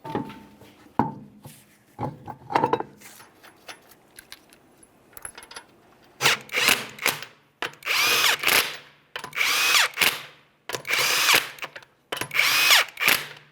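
A power tool drives the 21mm lug nuts onto a rear wheel of a 2009-2014 Nissan Maxima, with several loud bursts of whirring and rattling separated by short pauses, after some lighter clinks and tool handling.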